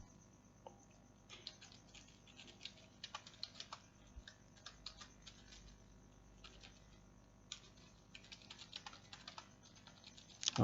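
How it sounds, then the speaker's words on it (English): Code being typed on a computer keyboard: a steady run of light, close keystroke clicks in uneven bursts with brief pauses, quiet and without speech. "use the bracket key and type console dot log and type your message"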